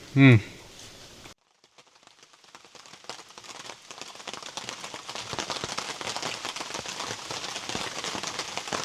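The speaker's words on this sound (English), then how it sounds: "The storm had moved on, leaving only a light rain drifting through the forest." Light rain patters steadily in Talladega National Forest after a storm, a soft dense pattering that builds gradually after a brief louder knock and a moment of quiet.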